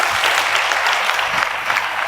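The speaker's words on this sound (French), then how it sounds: "on va l'applaudir très fort" Audience applause fills a studio talk show hall, a steady dense clapping that holds loud and even throughout with no voices over it.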